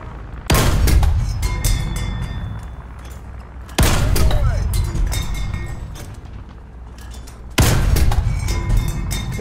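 Tank cannon fire in War Thunder ground realistic battle, three heavy booming shots spaced several seconds apart, each with a sharp crack and long rumbling decay, loud and close.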